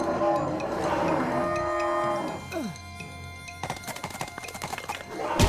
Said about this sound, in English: the clowns and cows stop hissing and mooing and posturing at each other